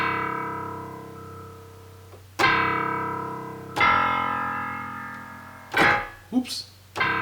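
A few low piano notes struck slowly, each ringing out and fading before the next, with some quicker notes toward the end.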